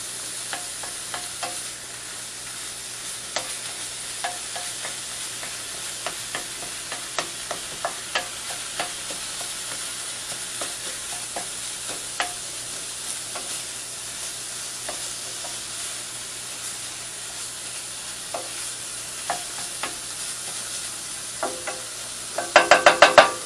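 Potato puffs frying in a pan give a constant bright sizzle while a spatula scrapes and taps at them in scattered strokes, ending with a quick burst of louder clatter.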